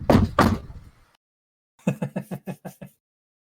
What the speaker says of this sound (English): The bang on the door.